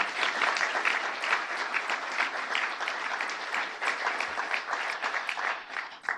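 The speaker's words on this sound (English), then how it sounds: "Please give them all a round of applause." Sustained applause from a large audience at a 2019 State of the County Address, an even, dense clapping that holds steady throughout before trailing off slightly at the end.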